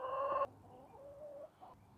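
Chickens by their coop give a loud clucking call up close, then softer clucks and a faint call follow in a quiet yard.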